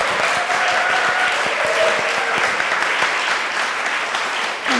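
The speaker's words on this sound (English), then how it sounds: "I feel like we need an absolutely huge, another round of applause for Clara." Audience applause at a book event, a dense, steady wash of clapping from a crowd that holds loud and unbroken for about five seconds before easing slightly at the end.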